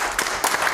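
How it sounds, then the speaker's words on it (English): A church congregation clapping hands, a short burst of a few distinct claps with no voices. "Give the Lord a hand clap."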